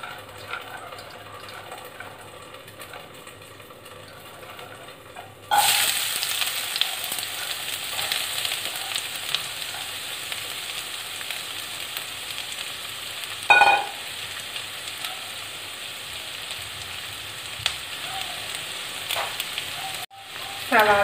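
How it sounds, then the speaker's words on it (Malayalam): Onions drop into hot coconut oil in a Kerala-style kitchen and crackle into a steady, fairly quiet sizzle, with a brief stirring clatter midway and faint speech in the background. "ഇപ്പോൾ എണ്ണ നന്നായി ചൂടായിട്ടുണ്ട്. നമുക്ക് അതിനകത്തേക്ക് സവാള ഇട്ട് കൊടുക്കാം."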